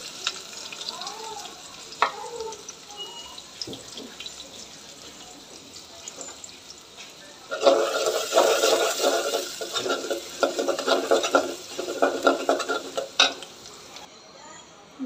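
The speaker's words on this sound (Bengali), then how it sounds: "ডাল বাগানো হয়ে গেছে" Garlic and onion sizzle in hot oil as a tempering for dal, quiet stirring at first, then a louder, dense crackle from about midway with continuous stirring.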